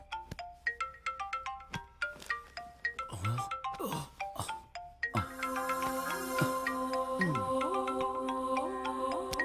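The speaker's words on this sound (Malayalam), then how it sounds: "ഫോൺ അടിക്കുന്നു." A phone rings with a bright, repeating electronic melody, first in short chiming bursts, then a fuller sustained tune, loud and close.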